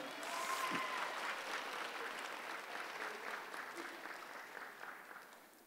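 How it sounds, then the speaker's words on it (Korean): A family camp audience at a lecture gives a faint, distant round of applause, a soft continuous patter of many hands that slowly tapers off. "박수 한번 치겠습니다"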